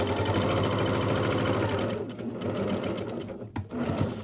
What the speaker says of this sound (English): we're going to sew along the edge here at a 1/4 inch seam allowance